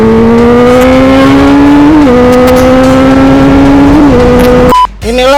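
A big motorbike revving hard and speeding along a road in Grand Wisata, its steady loud engine note climbing in pitch through two gear shifts, then cutting off abruptly near the end.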